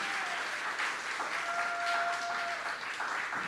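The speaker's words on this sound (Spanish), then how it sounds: "Dame un aplauso al Señor, aleluya." A church congregation claps steadily throughout, a dense even patter of many hands that is moderately distant, with a faint tone running underneath and no voices standing out.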